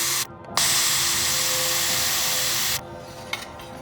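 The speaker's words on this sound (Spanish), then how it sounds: "Volvemos a pulir las soldaduras." Rotary polishing tool grinds steadily over soldered joints on fine refrigerator tubing, a high, whirring rub lasting a couple of seconds, then stopping abruptly.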